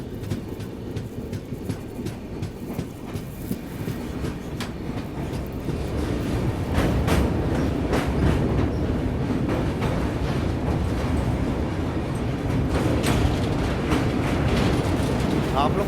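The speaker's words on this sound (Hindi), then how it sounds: "यहाँ हम लोग वर्धा नदी के पुल को पार कर रहे हैं।" Inside the Rapti Sagar Express 12591 on its Kanpur-to-Bangalore run while crossing the Wardha river bridge: a steady rumble and clatter of wheels that grows louder and fuller about a third of the way in, with rhythmic clicks throughout.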